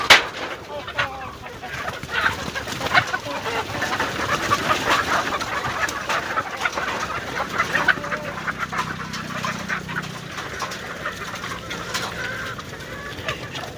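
Desi chickens and roosters on a poultry farm, with overlapping clucks and calls from many birds in a busy, continuous barnyard din; fairly close, with occasional faint voices mixed in.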